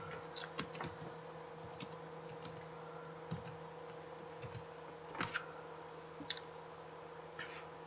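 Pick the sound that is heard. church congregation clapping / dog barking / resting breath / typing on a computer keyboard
typing on a computer keyboard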